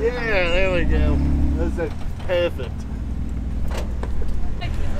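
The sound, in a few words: Jeep engine towing another Jeep up a hill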